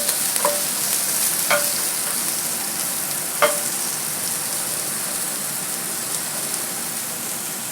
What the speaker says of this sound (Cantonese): 就用一個半煎半炒嘅形式啦，就去炒咗啲蘆筍先嘅